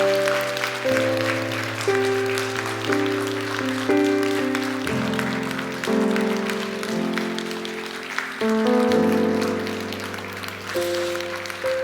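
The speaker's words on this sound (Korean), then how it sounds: "박수 하시죠." Congregation applause at a Sunday afternoon church service, a continuous rattle of clapping carried over sustained organ or keyboard chords that run beneath it the whole time.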